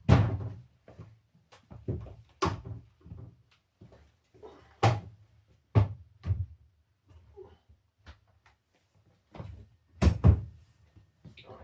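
A built-in refrigerator door is fitted back onto its hinges during a hinge repair, producing a close series of sharp knocks and dull thunks at irregular intervals, with quiet pauses between them.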